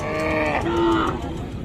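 A cow at a rural cattle market in Dinajpur lets out a single loud, drawn-out moo close by, with no talk over it.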